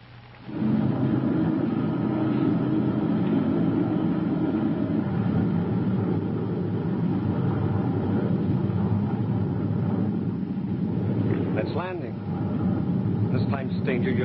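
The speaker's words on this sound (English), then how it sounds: "Sounded like a jet plane." A jet plane passes overhead in a 1950 science-fiction serial, a loud, continuous roar running throughout, with voices speaking over it.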